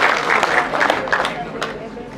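Audience applause welcoming a guest comedian to the stage at a Hindi comedy and hasya kavi event, a dense, steady wash of clapping lasting about two seconds, with talk mixed in.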